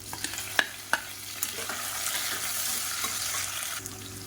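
Sliced onion and whole green chillies sizzle steadily in hot oil in a pan, with a faint continuous frying hiss broken by a few sharp clicks and scrapes of stirring.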